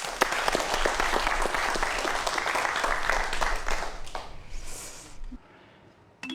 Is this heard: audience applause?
yes